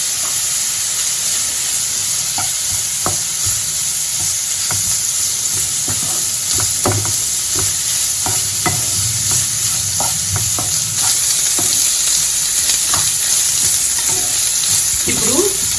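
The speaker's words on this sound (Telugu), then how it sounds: "ఇప్పుడు కొద్దిగా అల్లం వెల్లుల్లి పేస్ట్ వేసుకుంటున్నానండి." Ginger garlic paste fries with curry leaves in hot oil for an egg curry, a loud, continuous sizzle with scattered sharp spoon taps and scrapes as the pan is stirred.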